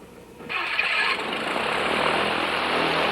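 A light aircraft engine cranks and fires after the magneto start switch is turned with the throttle about a quarter open, settling into a steady, loud running drone close by.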